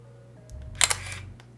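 The mirror of a film SLR camera flips with a quick, sharp double clack, close and crisp, followed by a faint mechanical tick in an otherwise quiet room.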